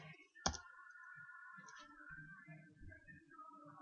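Keystrokes typing commands into DOSBox on a computer keyboard: a sharp click followed by a few sparse, quiet taps, alongside faint background tones in a quiet room.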